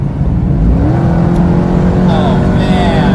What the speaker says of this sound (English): So I'm at 70, I'm just gonna step on it.